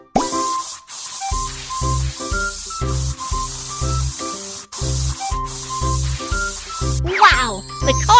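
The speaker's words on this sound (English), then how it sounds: "Then spray the steel plate with paint." Spray paint hissing onto a steel car panel in a cartoon car repair game, with bright jingling music and chimes playing throughout and a short sparkly flourish near the end.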